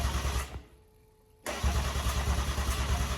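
A Nissan Patrol Y61 fitted with an M57 engine cranks loudly and steadily, stops briefly, then cranks again without firing up, a rough rhythmic churning close by.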